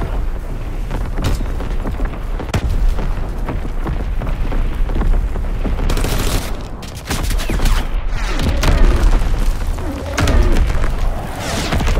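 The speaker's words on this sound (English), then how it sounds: "Incoming enemy artillery! Get to cover!" Incoming enemy artillery explosions in Call of Duty: WWII, loud booming blasts and crackling debris rolling one after another, with heavy rumble throughout and bursts of sharper impacts midway.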